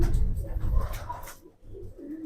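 Pigeons bought by their keeper coo in close, low murmuring bursts over a continuous rumble, with a brief quiet gap before the cooing resumes.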